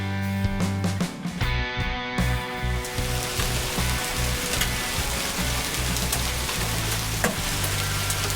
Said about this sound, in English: well, guess what? We got rain again.